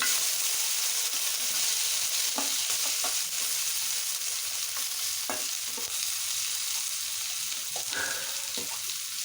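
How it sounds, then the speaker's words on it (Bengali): Potato pieces coated in turmeric and salt frying in hot oil give off a steady, close hiss and sizzle, broken by occasional scraping stirs of a utensil. "এখন এই তেলের মধ্যে হলুদ লবণ মাখিয়ে রেখেছিলাম আলু, সেগুলো দিয়ে ভেজে নেব।"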